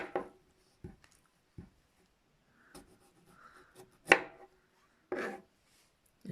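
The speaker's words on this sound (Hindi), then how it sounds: "सबसे पहले मैं कीवी काटूंगा।" A kiwi being cut and peeled with a knife in a home kitchen, a few sparse, soft, close cuts and scraping strokes separated by quiet gaps.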